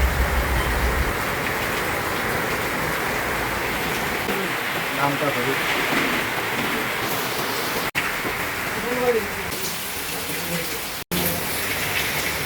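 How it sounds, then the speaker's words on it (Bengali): Heavy rain pours steadily outside, a dense continuous hiss that stays loud throughout, with a person talking over it and two brief dropouts. "বাইরে যে কি বৃষ্টি নেমে গেল কি অবস্থা"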